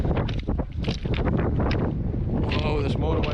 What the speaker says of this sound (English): there's more wind at this side